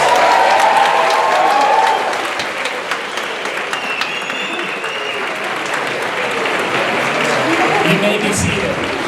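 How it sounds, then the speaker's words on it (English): A graduation ceremony audience applauds the graduates' supporters, dense sustained clapping and some cheering filling a large hall, loudest in the first two seconds and then steady to the end. "let's give all of these folks who supported you a round of applause."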